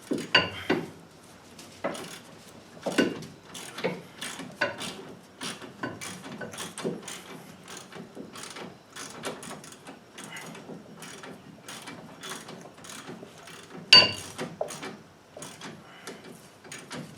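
Ratchet clicking on a brake bolt of a 2004 GMC Sierra 1500 pickup during a brake change, with bursts of quick clicks and pauses over about seventeen seconds, close and fairly faint, with occasional louder knocks.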